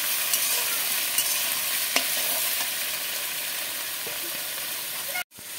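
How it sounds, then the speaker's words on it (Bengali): Potato, ridge gourd, pointed gourd and jackfruit seeds sizzle steadily in hot oil in a pan, with scattered scraping stirs before the sound cuts off abruptly near the end. "এই সবজিগুলোর সাথে এই কাঁঠালের আটিগুলো দিয়ে একটু ভেজে নিচ্ছি।"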